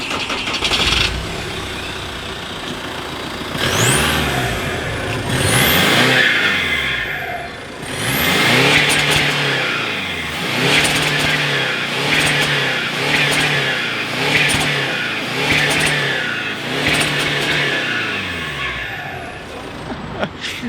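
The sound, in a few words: remapped Volkswagen 2.0 TDI engine revving with muffled exhaust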